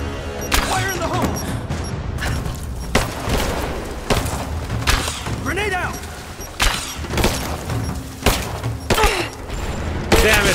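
A grenade blast in the combat game Rise of the Tomb Raider, a loud boom amid a run of sharp gunfire cracks and thuds, with voices talking over the fight.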